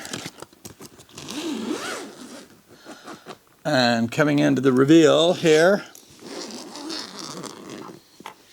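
A zipper on a Gibson SG guitar case rasps open in long, close pulls, with someone talking before and after.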